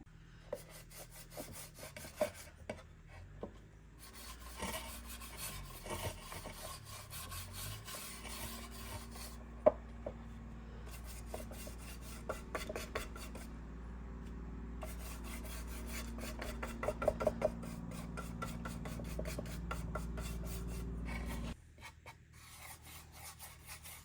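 A brush spreads Dixie Belle Chocolate paint over a wooden rustic Christmas decor piece, a soft, steady rubbing of repeated strokes that runs on quietly, with short pauses and a few light taps.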